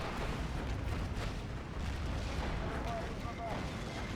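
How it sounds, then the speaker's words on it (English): A large aerial bomb blast in the WWII strategy game Steel Division 2, dropped by called-in aircraft on a German King Tiger tank, rendered as a continuous loud rumbling roar of explosions and fire that fills the whole stretch. "my guess is the big bomb will take him out"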